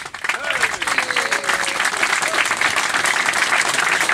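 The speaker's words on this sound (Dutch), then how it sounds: "Mag ik nou een geweldig applaus?" Steady, dense applause from a large crowd at a carnival flag-raising at the city prince's residence, clapping continuously throughout, with a voice faintly audible beneath it.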